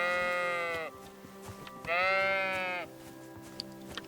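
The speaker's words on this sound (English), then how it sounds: "Let's continue herding the sheep." Sheep in Kingdom Come: Deliverance II let out two long, clear bleats about a second apart while being herded, over a quiet background.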